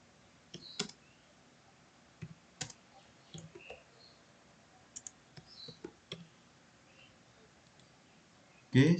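Sparse, quiet keystrokes and mouse clicks on a computer keyboard come in short irregular clusters as text is entered into a project schedule, with a louder thump at the end.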